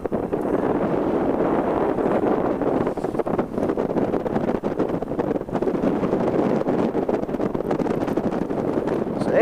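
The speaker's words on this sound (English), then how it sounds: "Wind's getting more variable." Variable wind on a hilltop during landing practice, a loud, constant buffeting roar against the microphone that stays rough and dense throughout.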